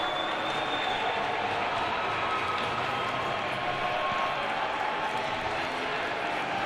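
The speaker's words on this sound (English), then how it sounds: "But what a great save by Dupler as the crowd shows them their love." High school hockey district final crowd cheering after a goaltender's save, a dense, steady roar of arena noise and clapping with voices mixed in and no distinct break.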